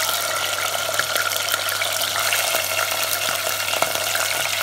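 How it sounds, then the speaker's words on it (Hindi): Mutton pieces drained of water frying in hot oil for aloo gosht, a steady dense sizzle with faint crackles throughout and no talk. "इस तरह से करके आप पीसेस को तेल में डालते जाएँ।"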